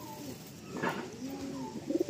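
Madrasi and Andhra pigeons kept for sale give soft, low cooing in a brief rolling call, faint and close amid quiet room noise, with no one talking.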